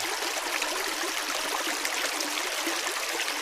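A clear mountain stream in Nantahala National Forest rushes along with a steady, even hiss of flowing water, constant and fairly soft, with no voices over it.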